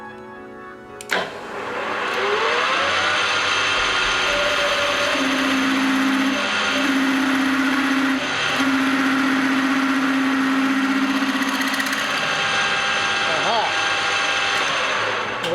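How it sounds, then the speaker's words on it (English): A small lathe runs with a steady mechanical whir while a drill bites into a small steel piece held in the jaws, producing a sustained higher-pitched whine for several seconds before stopping. "I'm going up a couple of drill sizes at a time"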